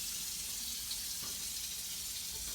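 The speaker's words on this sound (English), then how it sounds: "so I rinse it, get all those watermarks" Tap water runs steadily into a sink while a metal casserole dish is rinsed, a continuous even hiss with no breaks and no voices.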